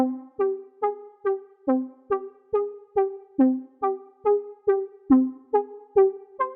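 A synthesized melody of short plucked notes in a steady rhythm, made in FL Studio for a dark trap beat, bright and clean with a dark, minor feel, played alone.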